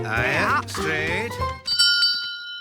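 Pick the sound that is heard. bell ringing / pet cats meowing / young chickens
bell ringing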